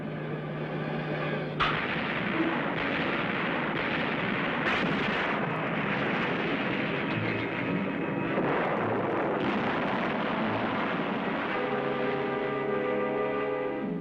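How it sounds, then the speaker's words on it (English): Heavy WWII naval gunfire bombardment on Okinawa booms and rumbles nonstop, with sharp cracks over a dense, loud roar of explosions and a drone like aircraft. "Naval gunfire is damaging to the positions"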